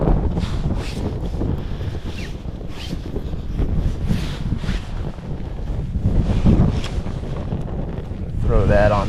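Wind gusts blowing outdoors around a campfire being built in the rain, a steady loud rush with buffeting against the microphone and faint crackles and handling noises throughout.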